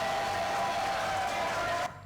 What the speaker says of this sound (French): Applaudissements pour Chim